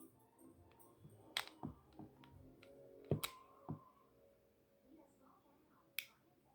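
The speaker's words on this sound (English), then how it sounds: "you can hear the trigger reset" Pistol trigger reset clicks, several sharp close metallic snaps spaced a second or more apart, the loudest near the middle and another near the end, with quiet handling noise between.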